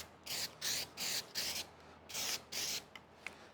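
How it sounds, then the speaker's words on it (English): A nearly empty aerosol spray can, used during rust repair on a 1986 C30 firewall, gives about six short, close hissing bursts with brief pauses between them, followed by a weak sputter. "This can's actually almost empty. You can basically tell by the fact that it won't spray upside down."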